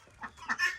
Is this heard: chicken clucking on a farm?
yes